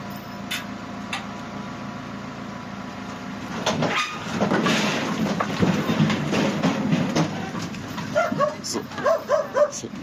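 A dog barks several times in quick succession near the end, amid clattering, rustling firewood being unloaded and stacked and people talking nearby.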